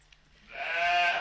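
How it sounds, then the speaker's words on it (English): The cloned sheep Dolly from Scotland bleats once, a rising, nasal, harmonic call swelling in over a second, close and fairly loud with no talking. "this is Dolly. A sheep"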